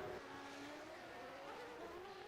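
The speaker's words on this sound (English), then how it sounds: "This sounds like the Ilmor engine" An Ilmor race car engine in the P4OW Manager racing game at Interlagos drones at high revs in a steady whine, its pitch sliding slowly as it holds power, with no voices over it.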